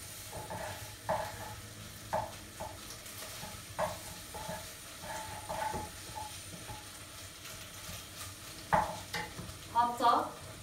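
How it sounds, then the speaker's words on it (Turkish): Pre-boiled meat sizzles in a pan with onion and tomato paste, under a steady low fry, while a utensil stirs and scrapes in scattered clicks and knocks. The sounds are close and moderately quiet. "Etimi de birlikte böyle özümsenene kadar kavuracağım soğanla, salçayla."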